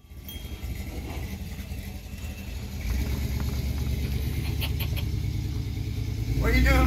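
Four-cylinder Chevy engine running loud and close, a throbbing rumble that builds in intensity and swells at the end. People talk over it now and then.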